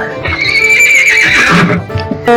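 A horse gives a loud, close neigh lasting about two seconds, a rising then wavering whinny with a brief snort at the end, no speech.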